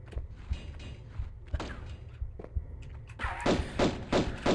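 A heavy stone block being shoved along the floor in Tomb Raider Gold Remastered, in the Hive level, giving dull repeated thuds and grinding creaks, then a louder rougher scraping burst near the end.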